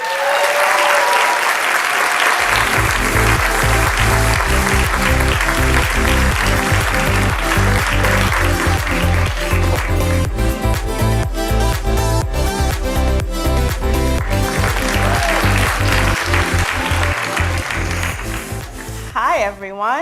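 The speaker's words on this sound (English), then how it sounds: "Please give a round of applause to our special leadership recipient" At an anniversary celebration, the audience applauds a special leadership award recipient, the clapping merging into loud, rhythmic music with a heavy beat that carries through to a brief tail at the end.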